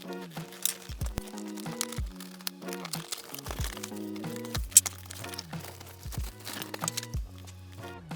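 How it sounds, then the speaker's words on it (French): A Xiaomi soundbar being unboxed from its cardboard box, close crinkling, crunching and scraping of packaging in irregular bursts, heard under steady background music. "On va tout de suite la déballer et puis voir à quoi elle ressemble"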